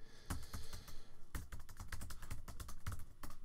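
Rapid keystrokes on a computer keyboard typing HTML link code, a steady close run of clicks with a few louder clustered bursts and no talk.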